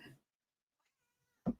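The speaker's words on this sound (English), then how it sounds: "And my cat comes in." A house cat lets out one short, fairly loud meow near the end, after a brief snatch of voice at the start and a long near-silent gap.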